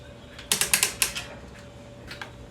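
A fastener being loosened with a ratchet makes a quick run of about six sharp clicks, followed after a pause by a few fainter ones, close and crisp, with no talking.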